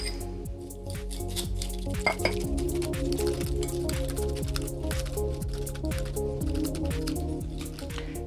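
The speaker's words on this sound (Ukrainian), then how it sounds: "дрібку солі, дрібку харчової соди і жовтки. І перемішую." Egg yolks with sugar, a pinch of salt and baking soda being stirred together in a bowl for baklava dough, giving steady soft squelching and wet mixing strokes with light clinks throughout, over a continuous tonal background.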